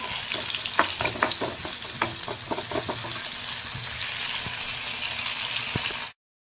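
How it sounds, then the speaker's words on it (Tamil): Chopped tomatoes sauté in a hot pan for an Indian egg curry, giving a steady bright sizzle with irregular scrapes and clacks of a spoon against the pan during the first few seconds, then continuous frying that cuts off abruptly. "நல்லா தக்காளி ஆட் பண்ணி நல்லா வதக்கி விட்டுக்கோங்க"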